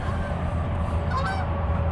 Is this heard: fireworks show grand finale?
no